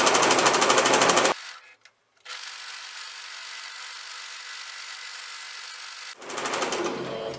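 Sewing machine stitching a straight seam on a plush teddy bear with backstitches, in two loud rapid bursts at the start and end, separated by a quiet pause with faint handling.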